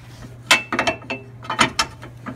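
Steel pins being fitted into the receptacle of a snow plow mount on a Kubota RTV 900, giving a series of close metallic clicks and clanks in irregular bursts, with no voices.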